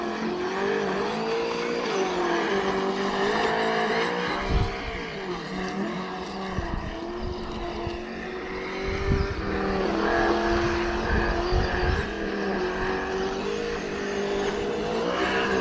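A Traxxas Slash 2WD radio-controlled car with an engine sound module drives in a field, its synthetic engine drone rising and falling steadily throughout with bumps and scuffs from the terrain.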